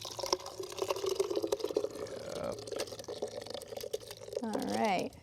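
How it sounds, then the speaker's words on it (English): Soup being poured into a blender on a cooking show makes a liquid pouring and sloshing sound, with a rising gurgle as the jar fills near the end, heard under people talking. "So you just pour it directly into the blender"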